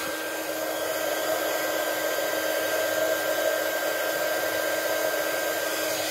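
Heat embossing tool blowing a steady, loud whooshing hum while melting embossing powder on vellum paper, constant and unbroken from start to finish with no voice.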